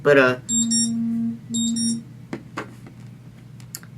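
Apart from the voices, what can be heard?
alarm going off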